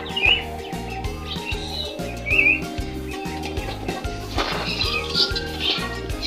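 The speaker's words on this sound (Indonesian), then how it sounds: "Di sampingnya ada burung merpati" Pigeons, ordinary and fantail, kept at a home aviary, cooing in low repeated pulses close by, with sharper chirps and whistled bird calls mixed in over the top.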